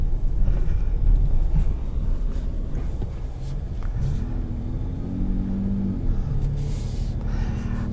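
A 2021 Ford F-150 Raptor with the 3.5 engine drives along, its low, steady engine rumble filling the cabin. The tone swells briefly with throttle, and light wind noise sits over the drone.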